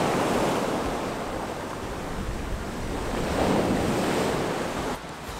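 Sea waves wash steadily onto a beach on Karpathos, a broad roar of surf swelling and receding over several seconds with wind buffeting the microphone throughout.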